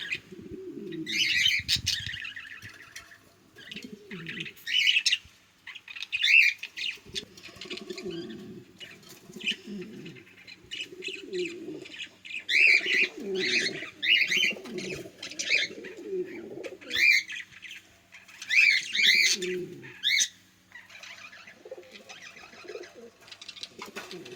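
A large pair of king pigeons at a nest with an egg gives repeated soft, low coos in uneven bursts, with higher chirps from other caged birds over them, close and moderately loud, with no talking.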